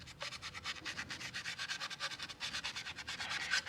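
Close, rhythmic back-and-forth sanding of a magnetic pole mount, quick regular scratchy rubbing strokes at a fairly quiet level with no talk.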